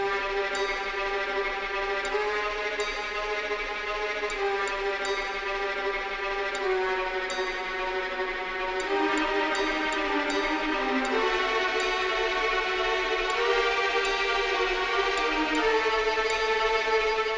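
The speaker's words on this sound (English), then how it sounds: "strings playing in a quiet but aggressive tremolo sounds like this." A string section plays a quiet but aggressive tremolo from the Final Fantasy IX score, with sustained, shimmering chords shifting in pitch and bright accents over a steady, soft bed, without speech.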